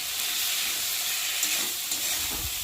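Spice masala with tomato frying in a pan, a dense continuous sizzle with occasional stirring scrapes, close and steady throughout.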